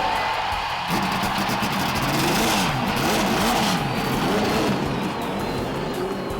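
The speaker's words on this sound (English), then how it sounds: "Ladies and gentlemen, start your engine." Indianapolis 500 race car engines roar together, a dense, loud field of revving motors with rising and falling pitch sweeps that carry steadily throughout.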